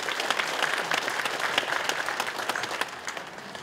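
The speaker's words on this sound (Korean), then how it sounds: "이건 뭐꼭 박수를 받을 일 같지는 않은데 박수를 해주셔서 감사합니다" An audience at a lecture hall talk on happiness claps continuously for several seconds, with dense, even applause and no voice rising above it.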